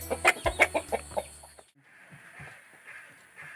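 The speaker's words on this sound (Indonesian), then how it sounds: "Sorana mani alus kitu eta aya ayam jago." A rooster in a quiet village yard gives a quick run of loud, rhythmic calls for about a second and a half, then falls silent, leaving faint background sounds.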